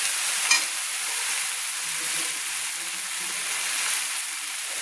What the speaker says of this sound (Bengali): এবার আমি সব মশলাটা কষিয়ে নিচ্ছি সব সবজিগুলোর সঙ্গে।